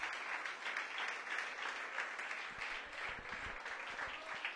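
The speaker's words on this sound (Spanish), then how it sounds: "Dele un fuerte aplauso a Dios" A church congregation claps in praise, a sustained, even wash of applause that sounds somewhat distant and soft, with no voices on top.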